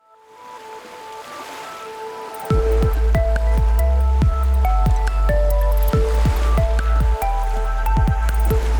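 Water pours hard and steadily from the T&P valve of a six-year-old failing Rheem water heater. Loud splashing and gushing starts abruptly after a quieter lead-in, with dripping ticks throughout and no talk.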